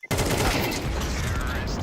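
Rifle gunfire in the video game Counter-Strike, a sudden loud burst of shots that fills the clip, dense and continuous after a brief quiet start.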